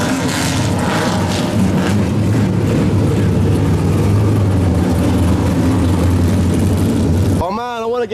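A drift car engine at a Formula Drift event, a loud continuous roar of revving that holds steady for several seconds and cuts off abruptly, with a voice talking over it.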